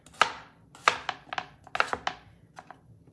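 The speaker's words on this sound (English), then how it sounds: "as I'm sitting here chopping" A knife chopping vegetables, such as small red potatoes, on a board: a dozen or so sharp, close cutting strikes in an uneven rhythm, with no talking.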